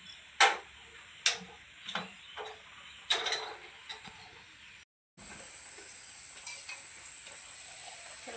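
Luchi, puffed flatbread, frying in a wok of hot oil with a steady close sizzle, broken by a few sharp clicks and taps of utensils early on and a brief drop to quiet before the frying hiss returns.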